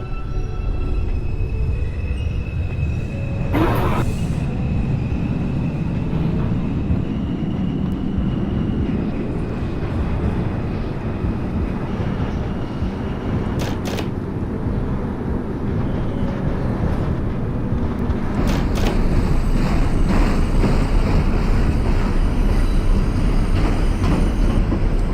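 A New York City subway 2 train bound for Wakefield pulls away toward Prospect Avenue after its doors close, a loud, continuous low rumble and motor drone with occasional sharp squeals and clicks, steady from start to finish.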